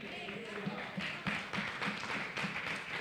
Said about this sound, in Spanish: ¿Puede darle un aplauso al Señor, hermano?